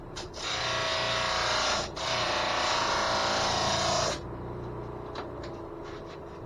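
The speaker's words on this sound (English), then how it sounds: "I'm gonna put the sander on this one." A sander rounds off a piece of a homemade air breather in a loud, steady high-pitched whir, broken by one brief dip, then cut off after about four seconds, leaving quieter workshop noise.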